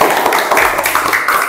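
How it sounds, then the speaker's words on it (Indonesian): A classroom of students clapping for a classmate, a brief loud burst of close, busy hand claps filling the room. "Bagus, tepuk tangan dulu untuk Dito."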